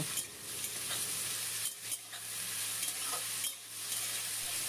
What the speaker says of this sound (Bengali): পেঁয়াজ কুচিটাও আলু বেগুনের সাথে নাড়াচাড়া করে ভেজে নেব